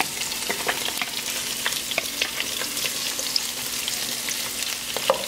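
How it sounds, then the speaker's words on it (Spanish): Pork ribs frying in a large pot for Thai-style rice, with a steady close sizzle and crackle and scattered pops and stirring clicks throughout, no talk. "Aquí vamos a poner a sofreír ya la costilla."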